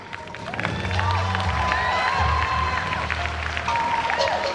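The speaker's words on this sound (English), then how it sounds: "A round of applause for this amazing presentation." Applause and cheering from a school audience after a presentation, a continuous crowd of clapping with scattered shouts and hubbub, fairly close and filling the whole stretch.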